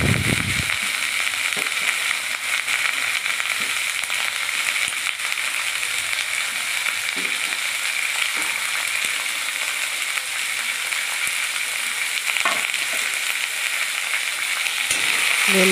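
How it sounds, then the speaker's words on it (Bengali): Chopped onion and garlic fry in hot oil in a pan for a chicken stew, with a loud, dense, continuous sizzle and crackle close by. Occasional scrapes and knocks from a metal spatula stirring come through the sizzle, with no talking. "খুন্তি দিয়ে ভালো করে পেঁয়াজ রসুনকে ভালো করে তেলের উপরে নেড়ে নিলাম"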